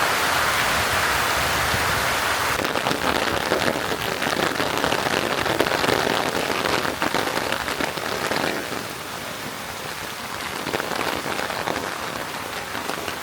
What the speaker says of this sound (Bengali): ভালোই বৃষ্টি আরম্ভ হয়েছে